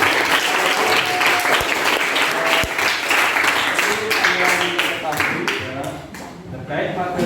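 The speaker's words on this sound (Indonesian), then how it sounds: "tepuk tangan untuk kita semua ya" A classroom of students claps together in sustained, dense applause that stays loud and steady throughout, with a few sharper individual claps standing out near the start.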